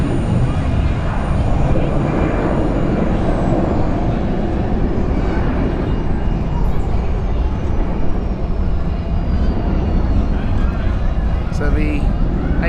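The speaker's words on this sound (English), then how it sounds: "British Airways about to take off soon." A British Airways airliner waits at Zurich Airport before takeoff, its steady jet engine roar and whine filling the air continuously at moderate distance, with faint voices underneath.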